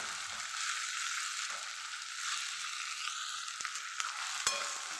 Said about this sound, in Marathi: आता टाकून घेणार आहे मी भेंडी.